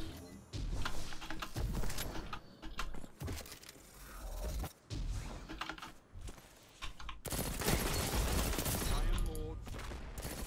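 Shotgun blasts and rapid gunfire in a team-based first-person shooter game, with a pulse rifle featured, arriving in dense loud bursts with short gaps between volleys and faint voice underneath.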